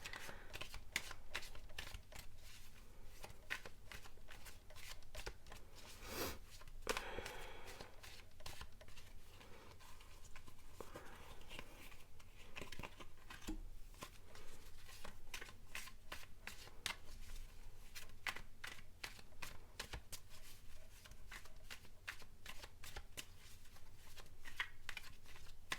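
A tarot deck is shuffled continuously, with rapid, crisp riffling card flutters repeating in quick succession and sounding close and steady throughout.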